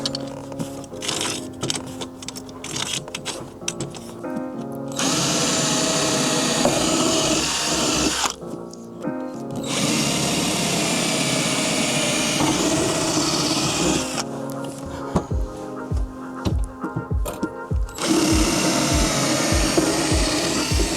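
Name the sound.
power drill drilling holes in teak deck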